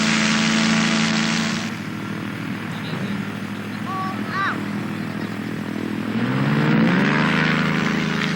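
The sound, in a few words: powered trike aircraft engine during aero tow launch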